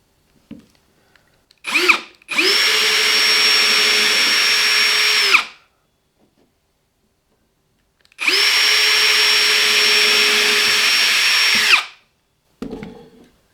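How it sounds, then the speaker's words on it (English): A power drill whirs loudly and steadily for a few seconds, stops, then drills again in a second long, even burst, with brief clunks around it. "Drill the hole."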